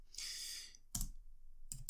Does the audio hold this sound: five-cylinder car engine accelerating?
no